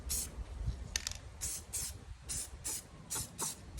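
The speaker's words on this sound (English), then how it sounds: "we're gonna spray these yellow" Short bursts of aerosol spray paint hissing from a can onto pots, yellow paint, about eight quick sprays in an uneven rhythm, close up with a faint low rumble beneath.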